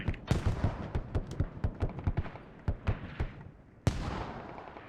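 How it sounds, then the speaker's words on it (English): Mortar shells land in the Squad video game during an esports match: a rapid string of booming thuds at uneven intervals, then a pause and one heavier blast, fairly loud and with little talk. "When mortars come in, tell me if they're accurate."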